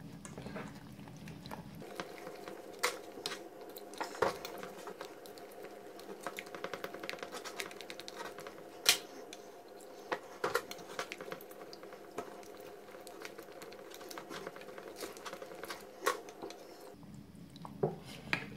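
Milk being whisked into a sauce in a pan for an artichoke-heart and minced-meat gratin, a steady soft bubbling liquid sound with light scraping and occasional clicks against the pan, close and fairly quiet, with no talking.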